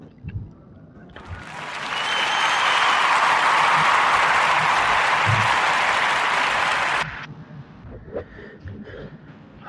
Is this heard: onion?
no